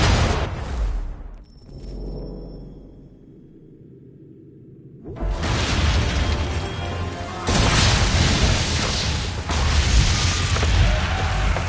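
Ship cannons fire chain shot during a naval battle in Assassin's Creed III: heavy booming blasts and crashing impacts, with a brief lull before a loud sustained barrage of cannon fire and rumbling debris.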